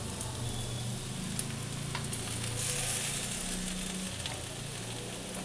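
Potatoes and onions frying in a pan as poppy seed paste goes in, a dense, even hiss of sizzling throughout with a few faint utensil taps, close but fairly quiet, no voices.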